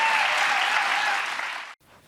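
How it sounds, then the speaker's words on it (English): A studio audience applauds in a loud, dense burst of clapping that holds steady, then tapers and cuts off abruptly near the end, followed by near silence and a faint trailing sound. "so we're going to join in that applause, Katha"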